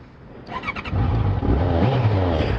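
A motorcycle engine in Québec rumbles close by, then revs up and holds a loud, steady drone after a brief quieter start.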